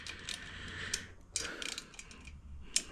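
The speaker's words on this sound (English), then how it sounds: "I believe these bolts are going to be 8 Newton meters, but I'm just going to snug them up" Engine bolts snugged up by hand on a Vespa Rally 200 engine during a rebuild, giving a few soft, close metallic clicks and ratcheting ticks spaced out over quiet workshop background.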